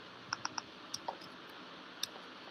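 Several crisp, quiet clicks of keys on a computer keyboard, a quick cluster of three taps followed by a few scattered single presses, close by and with no talk over them.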